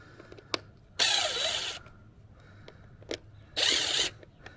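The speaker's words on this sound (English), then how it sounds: "So you need a screw gun with a Phillips bit, basically, or you can use a screwdriver." A screw gun with a Phillips bit backs screws out of the housing of a Power Smart PS90 6-ton log splitter, giving two loud, close whirring-ratcheting bursts separated by a short pause and a few light clicks.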